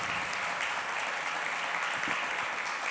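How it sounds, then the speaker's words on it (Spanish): A church congregation applauds together in a steady, dense wash of clapping that fills the room without pause, with faint voices mixed underneath. "Dele un aplauso fuerte al Dios Todopoderoso."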